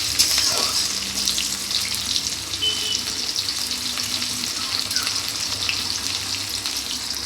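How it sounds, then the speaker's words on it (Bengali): Chopped onion and five-spice seeds (panch phoron) fry in a pan as they are stirred, giving a steady hiss and crackle with a few faint scrapes, close and continuous throughout. "দিয়ে দেবো একটু পেঁয়াজ, একদম অল্প। ভালো করে একটু নাড়াচাড়া করে নেব।"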